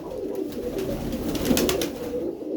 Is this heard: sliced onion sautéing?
no